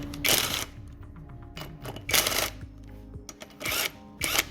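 Pneumatic impact gun zipping wheel nuts off a 2012 Kia Rio, several loud short bursts of rattling hammering separated by pauses, close up in a workshop, no talking.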